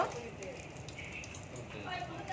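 Whole dried red chillies, bay leaves, cardamom and cloves hit hot oil for aloo dum, giving a continuous frying hiss and crackle, while a voice talks over it.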